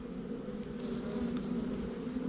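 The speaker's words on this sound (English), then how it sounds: "Those bees are acting like attendants now. Just kind of gently hovering around." Honey bees buzz around a queen cage in a hive, a soft, steady hum of many wings close by, continuous and even throughout.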